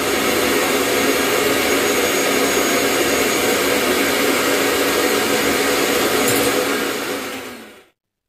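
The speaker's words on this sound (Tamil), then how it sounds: "இதை இப்போ அரைச்சி எடுத்துக்கலாம்" A mixer grinder blends tomato masala with a loud, continuous high-pitched motor whir that holds steady for about seven seconds, then winds down and cuts off into silence.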